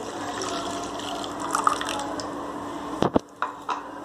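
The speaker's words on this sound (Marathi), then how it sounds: "ह्यामध्ये दोन वाटी पाणी टाकायचं आहे" Water is poured into a pot of curd to make buttermilk ambil, giving a soft, continuous liquid rush with a few close splashes and clinks near the end.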